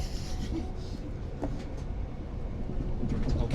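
A CAF train carriage hauled by a Class 68 locomotive rattles and rumbles steadily from inside, with low rolling noise and occasional clanks and knocks; background voices murmur faintly.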